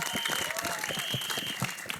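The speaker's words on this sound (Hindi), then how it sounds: "जोरदार तालियां" An audience at a film trailer launch event applauds, a quiet but steady wash of clapping that fills the short moment.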